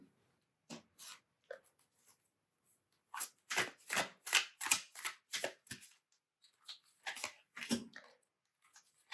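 Tarot cards shuffled and pulled from a deck, a series of soft crisp riffling bursts and flicks with short pauses between them, close and quiet with no talking.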